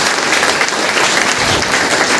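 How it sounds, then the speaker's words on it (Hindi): An audience at a meeting in Basti breaks into loud, dense applause, a continuous wash of clapping that fills the whole short stretch with no pause. "सभी लोगों के लिए भी जोरदार ताली।"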